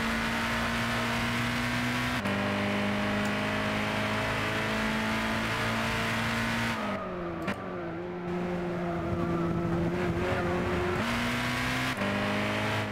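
A race car engine in a racing video game screams at high revs, loud and continuous. It drops in pitch at each gear change, then climbs again, with one longer lift and recovery midway and no talking.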